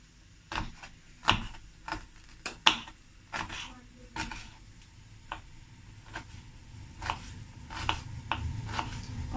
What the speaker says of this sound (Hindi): हम इस प्याज को बारीक बारीक चॉप करते हैं।